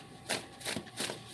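Tarot cards are shuffled by hand up close, three crisp riffling bursts in quick rhythm.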